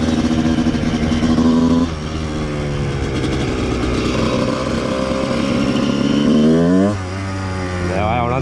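A Honda 125 CR motorcycle engine idles loudly up close, its pitch rising and falling as it is revved several times while it warms up.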